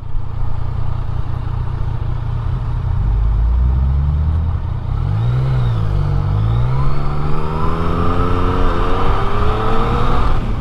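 A BMW car drives past on a road in the Scottish Highlands, heard over loud, constant engine and road rumble from inside a vehicle, with a rising and falling engine tone as it passes.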